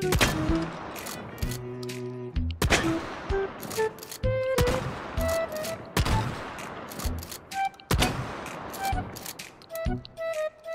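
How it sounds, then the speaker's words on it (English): A shotgun fires in the VR game H3VR, a series of sharp, loud blasts spaced a second or two apart, each followed by mechanical clicks and clacks of pumping and handling between shots. "All right, let's shoot this."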